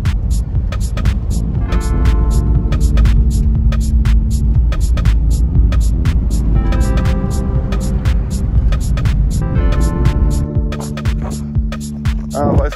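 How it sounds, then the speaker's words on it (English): A car drives along with a steady low engine hum and throbbing road rumble throughout, while music plays loudly over it inside the cabin. "Let's go for a drive."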